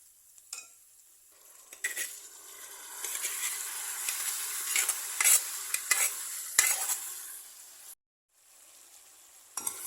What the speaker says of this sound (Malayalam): നമുക്കിതിലേക്ക് നമ്മുടെ പോർക്ക് വേവിച്ചത് അല്പാൽപ്പമായിട്ട് ഇട്ട് കൊടുക്കാം.